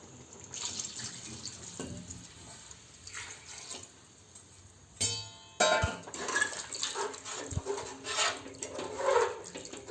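Water being poured into a pot of Ambur-style mutton biryani after the soup has gone in, a steady splashing pour with a brief pause midway, fairly close and moderately loud, with no voices.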